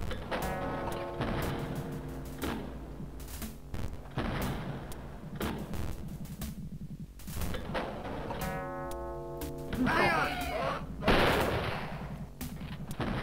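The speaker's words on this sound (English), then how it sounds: "There's a rifleman shooting somewhere." Rifle gunfire in the video game Wolfenstein comes in rapid, loud bursts that repeat throughout, mixed with other game effects and a brief metallic clatter.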